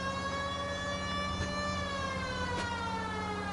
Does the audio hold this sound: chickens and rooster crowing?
no